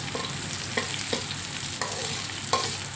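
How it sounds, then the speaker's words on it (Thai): Garlic and chili frying in a pan for stir-fried cabbage with pork, a steady close sizzle broken by several sharp scraping stirs of the utensil against the pan. "เราก็มาเจียวกระเทียมกับพริก ให้หอมก่อนนะคะ"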